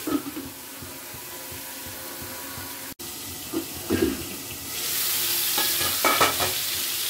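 Vegetables fry in a pan for a Malabar spinach and prawn curry, a soft sizzle broken by stirring clatter, growing into a brighter, louder hiss partway through.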